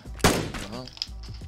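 Video game gunfire with a single sharp, loud shot followed by a short ringing tail and a fainter thump, heard close up.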